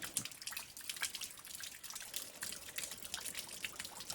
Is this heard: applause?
no